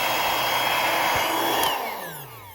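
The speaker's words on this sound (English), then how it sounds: "you just turn the knob either to inflate, and sucking air in, that's off, and then deflate, and it's blowing air out" Electric air mattress pump runs steadily with a loud, breathy whir of moving air, then its tone slides lower and fades toward the end as it winds down.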